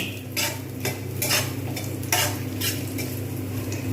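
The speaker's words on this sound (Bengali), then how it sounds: "এবারে আমি নারকেলগুলোকে এর মধ্যে ভেজে নেব একটু হালকা করে ভাজবো" Grated coconut is lightly fried in a pan for a chana dal dish, with repeated scraping stirs of a utensil over a low steady sizzle, close and moderately loud, with no talking.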